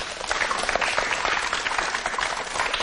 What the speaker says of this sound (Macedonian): Еден аплауз.